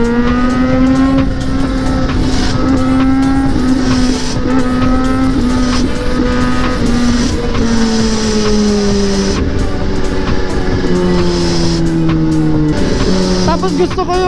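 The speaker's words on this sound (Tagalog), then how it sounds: "Ang ganda ng exhaust, hindi loud pero hindi not too loud." A motorcycle exhaust rumbles and revs loudly up close, with engine tones rising and falling steadily and voices faintly audible underneath.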